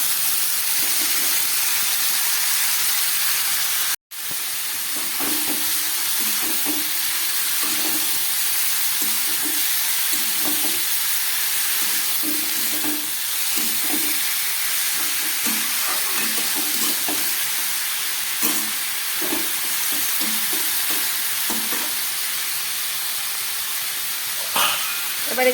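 Cabbage fries in a hot pan with a constant soft hiss, broken by repeated scraping stirs that come every second or so throughout.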